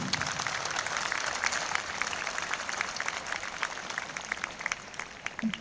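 An audience at a school event breaks into steady, moderately loud applause, many hands clapping together in a continuous patter that lasts throughout.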